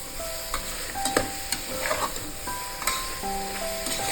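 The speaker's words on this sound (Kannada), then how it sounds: "ಬಿರಿಯಾನಿ ಮಸಾಲ ಹಾಕಿ ಒಂದು 2 ಮಿನಿಟ್ಸ್ ಫ್ರೈ ಮಾಡಿ." Homemade biryani masala frying in a pan for a soya and capsicum one pot rice, with a low steady sizzle and a few light stirring taps, close and moderate, no talking.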